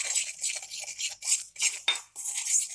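Chilli paneer sauce with vinegar is stirred in a pot, a close series of rhythmic scraping and clinking strokes of a utensil against the metal, with no talk.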